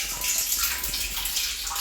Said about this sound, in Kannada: ನೀವಿಲ್ಲಿ ಟ್ಯಾಂಕಲ್ಲಿ ನೋಡ್ತಾ ಇರ್ಬೋದು, ನೀರು ಬರ್ತಾ ಇದೆ